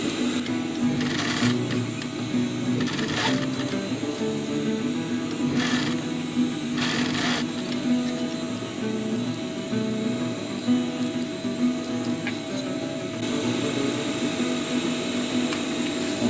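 A sewing machine runs in steady bursts stitching fabric for a utility pouch, a close mechanical whir with a few brief louder rattles.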